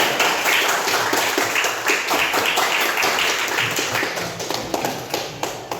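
A junior high school class claps their hands together in a classroom, many separate claps forming an uneven, continuous patter that is fairly close and moderately loud, slowly thinning toward the end.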